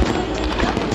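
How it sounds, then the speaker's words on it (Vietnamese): New Year 2019 fireworks display over a Vietnamese seaside city, with a rapid series of loud bursts and crackles packed closely together. "toàn thành phố biển hân hoan chào đón năm mới 2019 với màn bắn pháo hoa rực rỡ"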